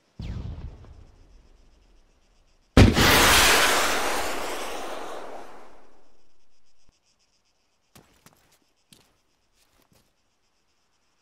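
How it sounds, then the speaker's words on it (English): Rocket explosion in the military game ArmA 3 with the ACE 3 mod: a small pop at launch, then one loud, sudden blast around the third second that rumbles and fades slowly over several seconds, followed by a few faint distant clicks. "Rocket goes up. Rocket comes back down."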